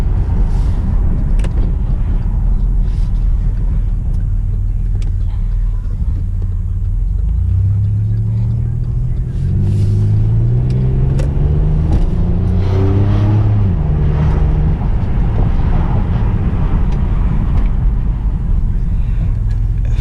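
A 2006 Chevy Impala with a 3.9L engine runs through a test drive, its low rumbling drone steady throughout and rising in pitch as it accelerates, then settling again.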